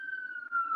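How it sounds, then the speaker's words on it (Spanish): A steady siren wail holds one sustained pitch that slowly drifts lower, moderately loud with only a faint low rumble beneath and no voices. "va a pasar, se va a escuchar una sirena"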